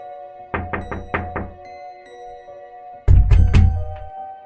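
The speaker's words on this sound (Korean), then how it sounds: "다시 엄마가 노크를 했다." Knocking on a door in a spooky story: five quick, hollow raps, a pause, then a louder burst of four heavier knocks, close and alone over a faint background.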